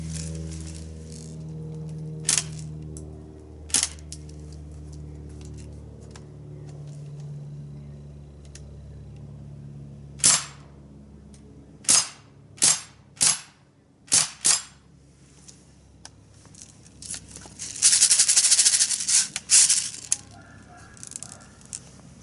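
An Umarex EBOS CO2 BB gun fires sharp, close pops, first single shots spaced seconds apart and then a quicker run, ending in a longer hissing burst of gas.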